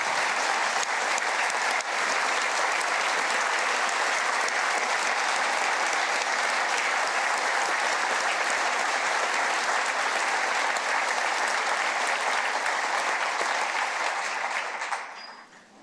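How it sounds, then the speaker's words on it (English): Sustained applause from an audience at a 2024 State of the State address, a dense, steady wash of clapping that holds evenly for about fifteen seconds before quickly fading out. "Please join me in giving Mel a round of applause today."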